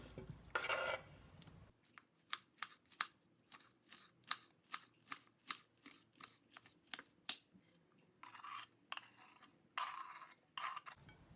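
A spoon stirs a thick mixture of yogurt and fava beans in a bowl, with steady rhythmic scraping and clicking strokes close up and no voices.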